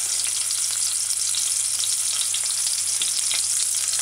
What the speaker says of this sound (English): Alright, next add the onions.